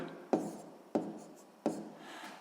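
Pen or pencil scratching on paper in three short quiet strokes, each starting sharply and trailing off, close by with no talk.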